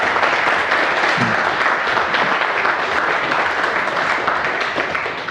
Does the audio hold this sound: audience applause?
yes